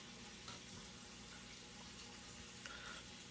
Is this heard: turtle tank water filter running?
yes